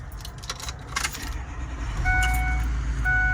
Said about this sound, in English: I guess we could start the vehicle.